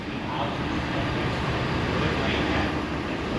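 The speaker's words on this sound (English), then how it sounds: "It was C-130." A C-130 Hercules military transport aircraft flies overhead, a steady broadband engine roar that holds loud and even throughout, with faint voices beneath it.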